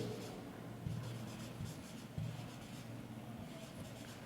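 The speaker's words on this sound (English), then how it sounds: "I will write here" Chalk or marker scratches steadily across a board during a maths lesson on vectors, with short strokes that come and go faintly and closely over a quiet room.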